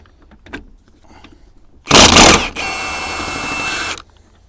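A power tool fitted with a 30mm socket removes a nut on the rear brake drum of a Suzuki Wagon R+ 1.3. A loud, harsh burst is followed by a steady whirring run of about a second and a half, then it stops.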